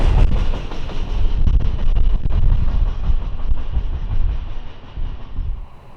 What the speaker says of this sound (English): the regularly scheduled Amtrak darted around the corner with 203 in the lead